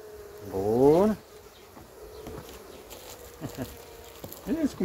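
Honeybees buzz close by in a hive in a dense hum, with a brief louder rising drone near the start and intermittent buzzing and faint rustling afterward.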